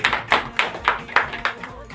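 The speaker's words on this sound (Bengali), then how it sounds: "যারা যারা এসছেন এখানে সবাইকে ধন্যবাদ জানাচ্ছি, সবার জন্য একটা হাততালি।" A small crowd applauds at a store opening, giving a short burst of even, rhythmic claps that rise and fall about four times a second.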